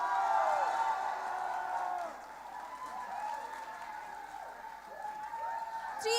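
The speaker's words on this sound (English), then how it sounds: "Give a big round of applause for the kitchen team." Audience applause for the kitchen team at a golden jubilee celebration and international conference at IHM Bhubaneswar: a steady crowd clapping mixed with cheering and whistle-like whoops, with voices talking over the noise.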